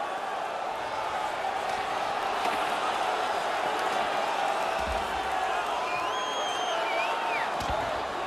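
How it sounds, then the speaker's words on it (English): Broad, steady roar of an ice hockey arena crowd in NHL 18 during a Vegas Golden Knights versus Pittsburgh Penguins game, loud and continuous throughout with no clear peaks, as a dense wash of cheering voices. "The crowd is on their feet, and they're trying to give their teams a little spark."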